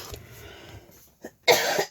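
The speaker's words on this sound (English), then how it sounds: "This cough" A person coughs once, a short, harsh burst near the end that follows faint throat noises and a soft breath, close and alone.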